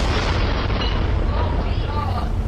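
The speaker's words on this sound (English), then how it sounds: "a huge explosion rocked the Bayer Crop Science Plant in Institute, West Virginia" A huge explosion at the Bayer CropScience chemical plant in Institute, West Virginia, heard at night as a sustained, deep, roaring rumble that stays loud and dense throughout.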